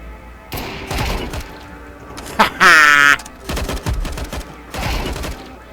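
Bursts of automatic gunfire in Counter-Strike 2, several rapid clusters of sharp cracks spread across the moment, loud and close, with a brief high tonal sound in the middle and someone talking between shots.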